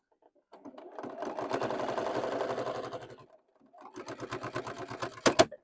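A sewing machine stitches down a fabric boxy bag in two bursts, a long steady whirring run, then a short pause and a second shorter run that ends with a few sharp clacks, close and alone.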